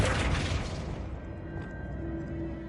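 The Flipendo spell going off in the Hogwarts Legacy video game: a loud, booming burst that fades into a low hum with a faint sustained tone, with no talking.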